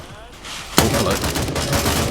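Gunfire from a weapon in the military shooter Grayzone Warfare: a sudden loud shot opens a rapid string of close, crackling rounds that keeps going to the end, with some talk faintly underneath.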